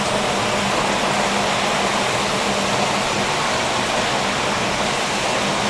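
Food sizzles loudly in hot oil during a second frying, a dense, even crackling hiss that holds steady throughout.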